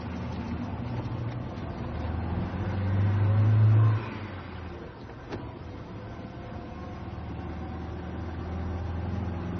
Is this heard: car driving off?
yes